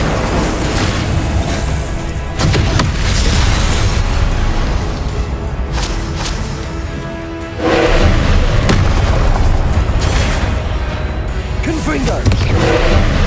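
Incendio fire spell cast in Hogwarts Legacy during combat, loud booming bursts and whooshing blasts repeating in quick succession over a dense, continuous roar of effects.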